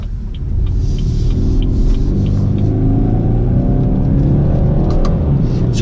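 A four-cylinder car engine revs hard under acceleration, a busy, steady droning rumble with rising pitch held loud and close throughout, with no talking.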